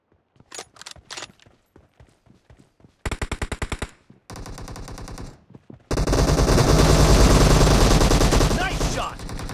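Gunfire in the mobile game PUBG Mobile: scattered single shots, then rapid automatic bursts building into a sustained loud barrage, with faint footsteps early on.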